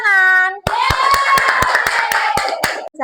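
Schoolchildren in a classroom clap in a quick, loud, evenly spaced rhythm after a brief spoken phrase, with a voice carrying over the claps.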